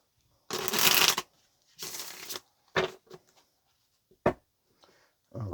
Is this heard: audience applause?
no